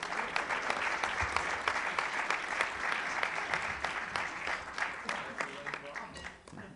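Sustained audience applause at a press club luncheon, many hands clapping in a dense, steady patter that holds for several seconds and slowly thins toward the end, heard from a moderate distance in a large room.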